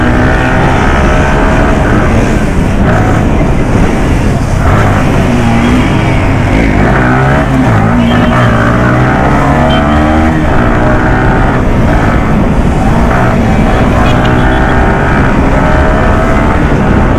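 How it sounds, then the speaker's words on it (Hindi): Motorcycles in an old-style street race between a Yamaha R15M and a Bajaj Pulsar NS200, loud continuous engine roar with shifting pitch as the riders use engine braking into a turn, close and dominant throughout. "सिर्फ यहाँ पे ना भाई इंजन ब्रेकिंग काम आ रहा है"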